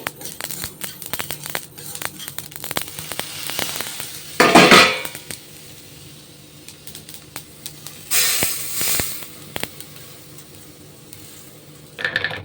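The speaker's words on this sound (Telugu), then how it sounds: "మంచి సౌండ్ వస్తుంది స్మెల్ కూడా వస్తుంది బాగా జీలకర్ర కూడా చూడండి వేగిపోయింది అందులో ఐరన్ ప్యాన్ కదా త్వరగా వేగిపోతుంది" Cumin seeds frying in a hot iron pan, a soft sizzle under frequent metallic clinks and scrapes of a spoon against the pan, with louder bursts of hiss and stirring now and then.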